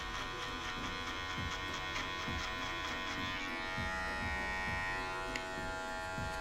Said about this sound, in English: I'm going to use a 0 on the clipper, and I'm going to remove about an inch